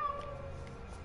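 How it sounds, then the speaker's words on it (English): A kitten meows inside an abandoned apartment building, a thin tonal cry with a few faint repeats over a steady low hum of background noise. "It's a kitten."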